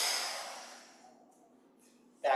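A long, soft exhale during a breathing exercise fades out gradually over about a second, close and gentle, and is followed by a brief quiet pause and a short breathy sound.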